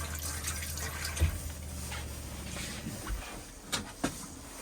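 Hot water running through the hot water system of an Elddis Majestic 105 caravan, with faint trickling and a few gurgles and drips at close range.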